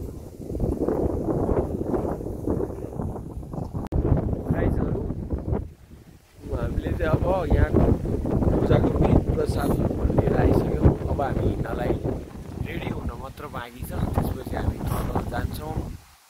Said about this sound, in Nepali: हावा त नन स्टप चला